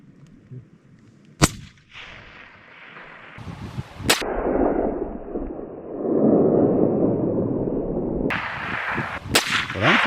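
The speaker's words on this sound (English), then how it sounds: "But unfortunately, that shot was high, so no venison for the camp tonight." Rifle shots ring out on a South Island New Zealand hillside while hunting Himalayan tahr, sharp loud cracks at intervals, one echoing into a rolling rumble of wind and movement.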